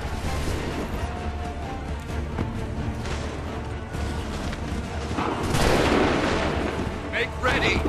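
Musket volleys from a firing squad in Assassin's Creed III's Lexington and Concord mission crackle as loud rough bursts, overlapping with shouted commands and battlefield noise, with a heavier burst of gunfire toward the end.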